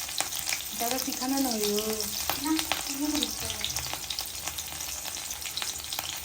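Cumin seeds and green chillies sizzle and crackle steadily in hot oil in a home kitchen, a close continuous frying hiss with a person talking briefly over it.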